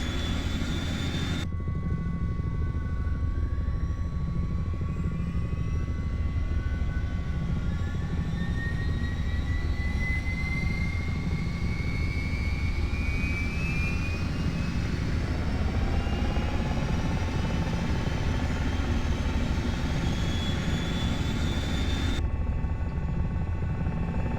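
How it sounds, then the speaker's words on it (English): Turbine engines of an H-60 helicopter spooling up in Flight Simulator 2020, a steady loud whine and rumble with rising tones climbing slowly throughout, alone without talk. "Let's first wait till the engines are fully started."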